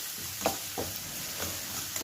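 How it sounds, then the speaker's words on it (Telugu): Ridge gourd frying in a pan with ginger garlic paste and turmeric, a soft steady sizzle broken by a few stirring scrapes of a spoon, close and fairly quiet, no talking. "హాఫ్ కేజీ బీరకాయలకు 1 స్పూను అల్లం వెల్లుల్లి పేస్ట్ ఎక్కువ పోయిందాక బాగా వేయించుకోవాలి"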